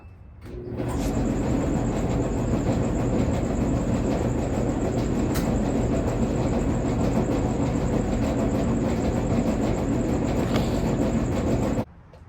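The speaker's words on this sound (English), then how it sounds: "There is a loud noise. I suspect the drum rollers." A Samsung clothes dryer with worn drum rollers runs with a loud, steady rumbling roar and a constant high whine, starting abruptly and cutting off near the end, with no talking.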